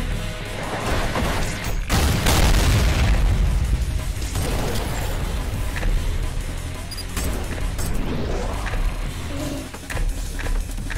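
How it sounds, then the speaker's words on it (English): A huge explosion in the fast-paced shooter Ultrakill lands as a loud, deep boom, followed by sustained crashing, bursting and mechanical clatter that keeps the scene noisy. "I'm confused on what just like blew up and made a huge explosion"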